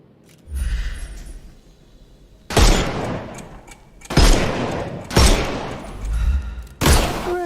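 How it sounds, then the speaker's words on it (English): In the video game Sherlock Holmes: Chapter One, gunfire blasts the armor off enemies: four loud, close bursts of shots with short pauses between them, after a quieter rumble at the start. "Shoot off their armor."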